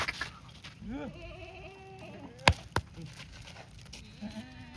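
Red Kathiawari goats bleating near and loud, several wavering calls over a murmur of background noise, broken by a couple of sharp knocks.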